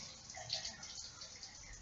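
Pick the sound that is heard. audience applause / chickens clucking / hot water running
hot water running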